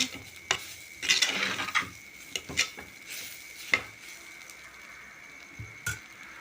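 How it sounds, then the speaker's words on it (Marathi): A utensil stirs young jackfruit vegetable with freshly grated coconut in a pan, giving intermittent scraping and clinking strokes over a soft, light sizzle, close and fairly quiet, with pauses between movements. "त्याच्यामध्ये मी हे ओलं खोबरं घालते व्यवस्थित परतून घेते"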